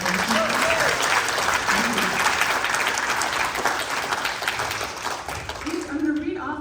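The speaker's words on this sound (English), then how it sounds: "Can we get a round of applause for all of them?" Sustained audience applause at a benefit event fills the room steadily and loudly, with crowd voices murmuring beneath and a few spoken words near the end as the clapping thins.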